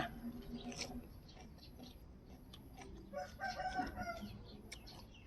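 A rooster crows and chickens cluck around a rural Thai home kitchen where fish dip and steamed mushrooms are being prepared, the fowl sounds moderately distant amid ambient household noise and occasional faint voices.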